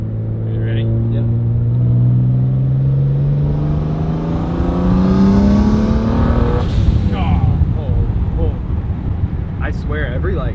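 A BMW 335i running a single turbo accelerates hard in third gear, its engine note climbing steadily in a loud, close rising drone that then shifts into a rougher roar as the run continues.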